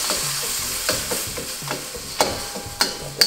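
Frozen peas and eggs sizzle in a frying pan for egg fried rice while a utensil stirs them in steady, rhythmic scraping strokes, with a few sharper clinks near the end.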